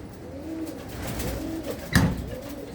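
Pigeons coo softly nearby inside a large pigeon loft in a few repeated, low rolling calls, with a brief louder bump partway through.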